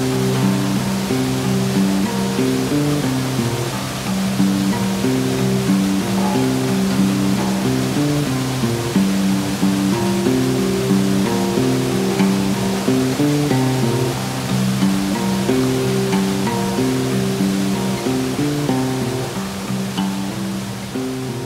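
A river running high after rising water pours over a weir, a loud, steady roar of rushing water that fills the whole stretch without pause, close by and with no voices.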